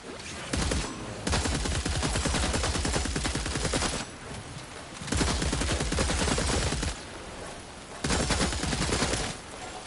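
Video game weapon gunfire in rapid sustained bursts, loud and close, with brief pauses between volleys and no talking.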